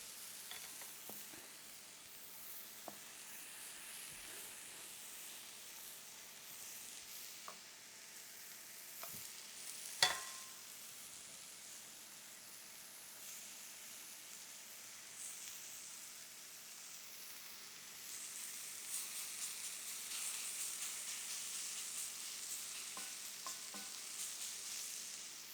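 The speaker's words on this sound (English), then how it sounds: "Then I'm kind of going to toast my bread a little bit." Bread toasting in a pan for a choripán sandwich gives a quiet, steady sizzle and hiss, with a few faint taps and scrapes and one sharper knock partway through.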